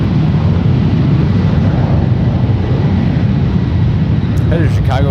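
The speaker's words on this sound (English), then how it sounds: "Departing now, United Airlines Flight 1709, headed to Chicago." A United Airlines 737-900ER jet departs San Francisco International Airport with a loud, continuous broadband roar that stays constant, and a voice cuts in briefly at the very end.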